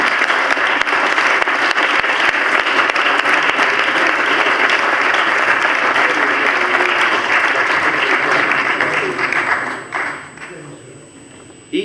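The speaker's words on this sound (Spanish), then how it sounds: "Le damos un aplauso." An audience at a celebration for couples marking golden and silver wedding anniversaries gives loud, dense applause that holds for about nine seconds. It then fades quickly to a few scattered claps before stopping.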